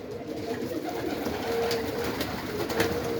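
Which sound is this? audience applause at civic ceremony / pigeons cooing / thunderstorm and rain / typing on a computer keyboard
pigeons cooing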